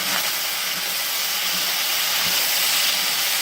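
Gravy Master browning sauce hits hot ham fried rice in a pan, giving a loud, continuous, even sizzle that holds unbroken throughout.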